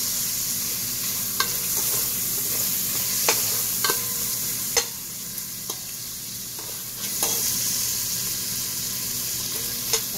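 Meat frying in a pan for Chinese lomi, a constant sizzle punctuated by a series of sharp spatula scrapes and taps against the pan at irregular intervals, close and clear, no voices.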